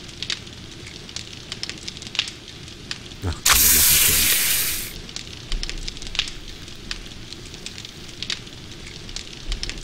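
Crackling fire burning in the video game 7 Days to Die, a steady faint crackle with sporadic pops, interrupted midway by a loud burst of rushing hiss lasting about a second before fading back.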